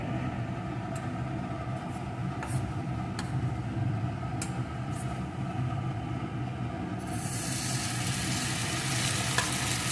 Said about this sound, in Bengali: এখানে আমি গ্যাস ওভেনে একটা তাওয়া বসিয়ে গরম করে তাতে একটু তেল চারিদিকে মাখিয়ে নিয়েছি এখন ওই ব্যাটারটা এর মধ্যে ঢেলে দেব